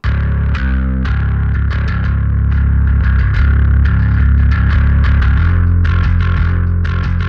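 Bass guitar run through cranked-up plugin saturation, sounding thick, dark and beefy, a sustained distorted line with plucked note changes, played alone.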